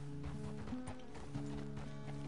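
Horse hooves clip-clop at a steady trot in the video game Red Dead Redemption 2, moderately faint beneath a constant droning game ambience, with no talking.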